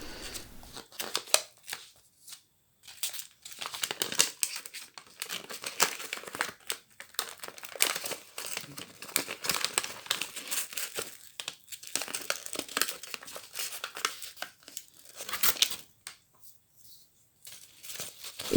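Wrapping paper for a mini Christmas gift box crinkles and rustles close by in irregular, quiet bursts with brief pauses, steady handling throughout with no talking.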